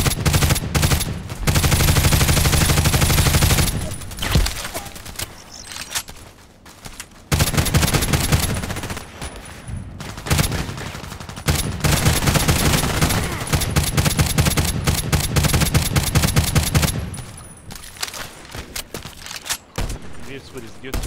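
Rapid automatic fire from an HK G36C rifle in the video game Contract Wars, coming in several sustained bursts separated by short pauses, loud and dense.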